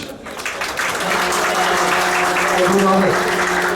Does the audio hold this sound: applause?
yes